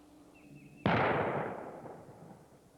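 A single rifle shot fired at a turkey target outdoors, a sharp loud crack at close range followed by a long fading rumble and echo.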